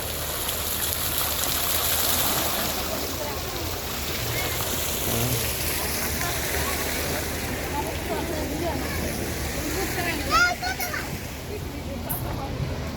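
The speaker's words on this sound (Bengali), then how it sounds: "এই যে সামনে আছে ঝর্ণা," A water fountain at Golden Star Park, an amusement park in Narsingdi, gives a steady rushing splash throughout, with children's voices and crowd chatter mixed in and a brief louder splash near the end.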